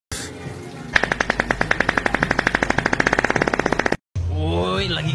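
Rapid automatic gunfire rattles off in a long, evenly spaced burst of sharp reports, cuts out abruptly, and a voice follows.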